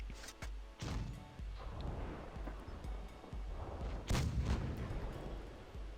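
Missile and cannon hits on a tank in World of Tanks Blitz, a string of sharp, booming impacts at uneven intervals with one heavier blast near the end, fairly quiet overall.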